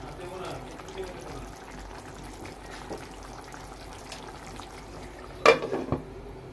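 Pigeon curry simmers in a covered pot with a soft, continuous bubbling hiss. A person talks over it, and a brief metallic clatter sounds near the end.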